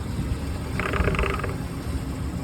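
A failing exhaust hood motor with a chewed-up drive belt runs as a steady mechanical drone, with a rougher grinding whir rising briefly in the middle before settling back.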